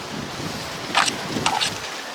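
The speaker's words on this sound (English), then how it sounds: "The wind's blowing hard, helping it dry up." Strong wind blowing outdoors in a boatyard, a steady, broad rushing roar with brief gusty buffeting against the microphone, fairly loud and continuous throughout.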